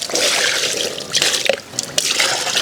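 Water poured into a dollu drum shell standing in a bucket, a close, loud splashing and dripping pour with uneven spurts and pauses, no voices.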